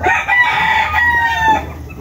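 A young stag rooster, a breeding cockerel, crows loudly and close by in one drawn-out call lasting under two seconds, with faint background clucking.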